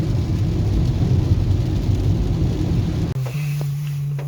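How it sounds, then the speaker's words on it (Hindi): Heavy rain pours down onto a road in a dense, steady hiss, drumming on a hard surface. The wash of sound cuts off near the end, leaving a low hum. "मज़ेदार बारिश होते हुए इधर रोड पर।"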